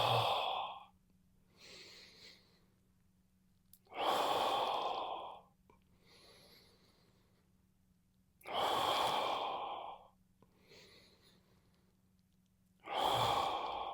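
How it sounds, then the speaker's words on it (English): Slow, steady breaths during a thoracic rotation exercise, with long audible exhales and softer inhales recurring in a regular rhythm roughly every four to five seconds, close and clear over a faint low hum. "and breathe out."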